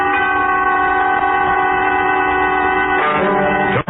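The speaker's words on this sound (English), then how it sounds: "Tonight, you will take a trip on a train" A train running as a radio drama sound effect: a loud, steady rumble under sustained multi-tone horn or whistle blasts, with a brief shift near the end.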